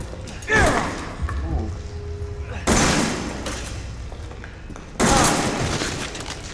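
Shotgun blasts in Resident Evil VII: three loud, sharp booms about two seconds apart, each trailing off into a rumbling decay, with faint voices and movement between the shots.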